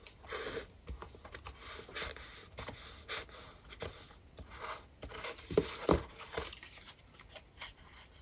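Paper folds on a father's day airplane card being creased by hand: quiet, irregular rubbing and scraping strokes with soft taps, close and faint, no talk.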